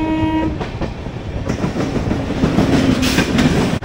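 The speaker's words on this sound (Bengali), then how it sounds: "এবারে আসছে সেই অভিশপ্ত জ্ঞানেশ্বরী এক্সপ্রেস" Gyaneshwari Express passenger train passing at speed on an Indian main line, a loud continuous rumble of wheels and carriages with rhythmic clickety-clack and a brief horn, heard close by.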